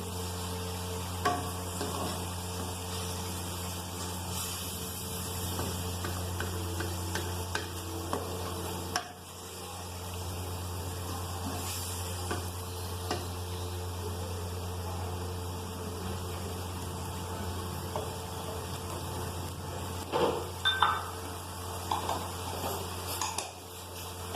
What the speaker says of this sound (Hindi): इसको थोड़ा सा जब तक ये हमारी गाजर जो है सॉफ्ट नहीं हो जाती इसको हम फ्राई करते रहेंगे